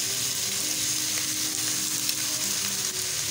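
Chicken pieces brown in a hot pan for veggie macaroni, giving a dense, even sizzle that stays loud and close throughout, with faint stirring underneath and no voices.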